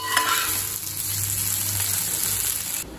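Raw banana fry cooks in a pan on a low flame, sizzling loud and near with a steady crackle and a soft low bubbling undertone, then the sizzle suddenly drops away at the end.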